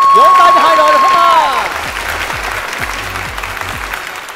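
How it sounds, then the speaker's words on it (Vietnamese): A studio audience at a game show claps for two competing teams. A loud, drawn-out voice rings out first, then a broad wash of applause follows, steady and moderately close. "Vỗ tay cho 2 đội được không à?"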